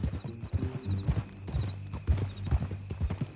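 Rhythmic clip-clop of horse hooves trotting at a steady pace, close and clear, with a low hum underneath, in the video game Red Dead Redemption 2.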